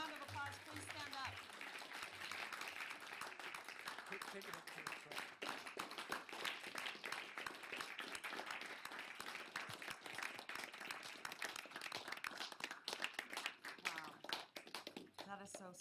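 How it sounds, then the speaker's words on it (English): Audience applause at a Reno City Council meeting, steady clapping throughout mixed with cheering and people talking over it, the crowd loud and close. "Everyone, give them a round of applause"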